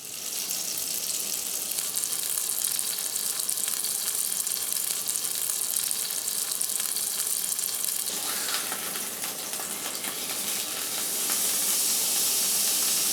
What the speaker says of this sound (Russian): Все разогрелось, я начинаю жарить.